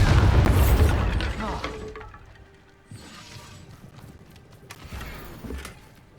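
A Bombarda spell blast in Hogwarts Legacy erupts with a loud, close boom at the start, then fades into rumbling debris and quieter thuds with a couple of smaller impacts later.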